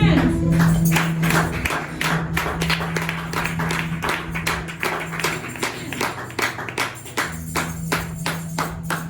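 A church congregation applauds during a service, with dense, steady clapping filling the room for several seconds over a sustained tonal hum, thinning slightly toward the end.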